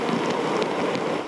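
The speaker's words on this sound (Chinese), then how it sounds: "这个雨势有时候也是一阵阵，但中途也是有非常强烈的雨势" Heavy rain pours steadily during a rainstorm in Ren'ai Township, Nantou, a dense continuous hiss close by with no voices.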